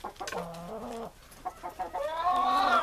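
Orloff chickens in a flock clucking and calling, with a run of bright, rising squawks and clucks close by, no talk.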